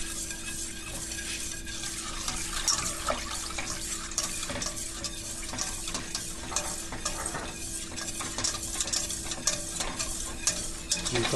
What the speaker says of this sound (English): you're gonna just continue stirring it, and it's gonna thicken in just a little bit